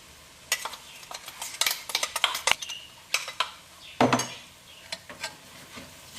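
Chillies and spices fry in oil for a Kerala fish pickle, a faint sizzle under repeated sharp scrapes and clinks of a spoon stirring against the pan, close and uneven in rhythm.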